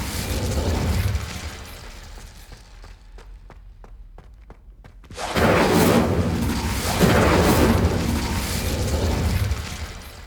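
Hogwarts Legacy video game Incendio fire spell cast at braziers: a rushing, roaring whoosh of flame bursts up loud after a quieter stretch of light ticking clicks, then keeps flaring in full, dense waves.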